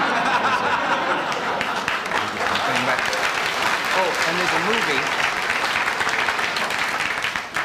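Loud studio audience applause on a 1969 television talk show, continuous clapping with some laughter mixed in, while a voice speaks over it.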